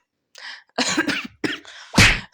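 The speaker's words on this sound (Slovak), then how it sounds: "Kašlem." A person coughs several times in close succession, loud and near, harsh throaty bursts separated by short silences.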